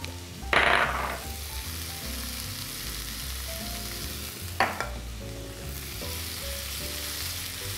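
Food sizzles steadily in a hot pan after black pepper and chili flakes go in, a soft continuous crackle with a brief louder hiss near the start and another burst midway.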